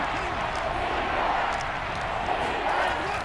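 A stadium crowd in a Madden 23 NFL simulation of the Browns versus the Commanders roars steadily, a dense continuous wash of cheering that holds at an even level throughout with no pauses.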